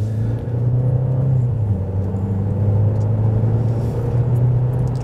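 Opel Cascada engine accelerating from inside the cabin, a steady low rumbling drone with a mild rising whir, heard continuously for several seconds without talk.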